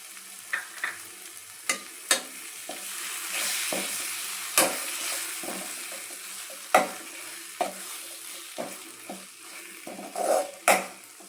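Ground coconut masala with chilli powder hits a hot pan for an onion kos side dish, sizzling loudly and steadily while a spoon scrapes and knocks in repeated stirring strokes, close up.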